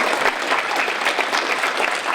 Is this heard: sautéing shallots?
no